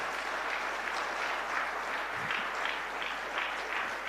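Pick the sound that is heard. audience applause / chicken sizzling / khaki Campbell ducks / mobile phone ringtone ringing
audience applause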